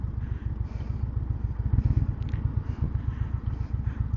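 A motorcycle engine idles close by with a loud, steady, lumpy beat, its rapid pulses running evenly throughout with no talking.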